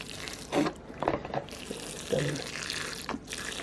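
Water is poured from a bottle onto a pot of freshly sown tomato seeds and soil, several short close splashing bursts with brief pauses between them, and a voice speaks briefly.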